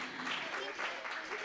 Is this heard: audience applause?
yes